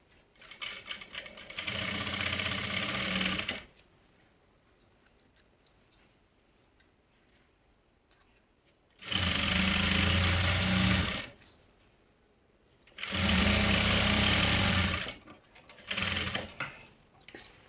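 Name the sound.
sewing machine stitching a salwar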